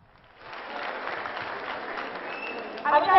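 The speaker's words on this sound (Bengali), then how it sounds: "একটা জোরে হাততালি মিমের জন্য" An audience at a government high school in Rajbari applauds a stage singer, the clapping swelling from quiet into a brief, steady burst in the hall.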